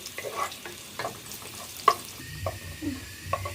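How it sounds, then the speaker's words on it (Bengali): Chopped onions sizzle softly in a pan as they brown for beef tehari, while a spoon stirs and scrapes, with irregular clinks and taps against the metal. "নেড়ে চেড়ে আমি পেঁয়াজটা বাদামি করে ভেজে নিচ্ছি"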